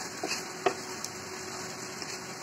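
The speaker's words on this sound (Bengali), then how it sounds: "পেঁয়াজ কুচিটা ভালো করে ভেজে নিতে হবে" Chopped onion fries steadily in mustard oil in a pan, giving an even hiss with a few faint clicks of a utensil against the pan.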